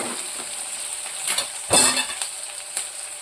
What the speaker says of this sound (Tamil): இன்னும் கொஞ்சம் நல்லா ஃப்ரை ஆகட்டும்